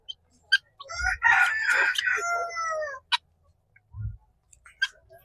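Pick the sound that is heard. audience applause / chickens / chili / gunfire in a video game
chickens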